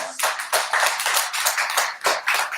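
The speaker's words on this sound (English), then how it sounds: "so I'm gonna clap for y'all" A lone person claps hands for a panel of judges at a slam poetry event, a steady run of sharp, fairly close claps repeating about twice a second with no talk over them.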